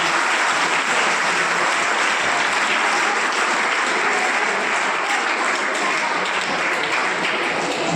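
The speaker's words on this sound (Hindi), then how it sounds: "जरा एक बार ताली बजा दो बच्चों।" Schoolchildren clap together in sustained, dense applause at a school event, loud and steady for the whole stretch with no pause.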